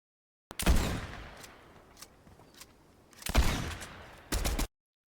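Gunfire rings out in the video game Fortnite, with two loud bursts of rapid shots separated by a quieter stretch of scattered pops, then a short final burst, close up and with no talking.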